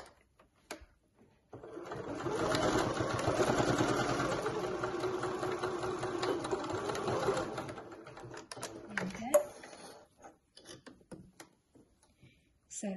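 Sewing machine stitching a fabric pack-away shopping bag, a steady mid-pitched mechanical whir that runs for several seconds, then stops, followed by faint handling clicks and rustles and some quiet speech.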